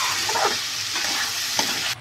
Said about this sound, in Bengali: ভেজে রাখা বেগুন দিয়ে সব কিছু আমি ভালো করে মিশিয়ে নেব।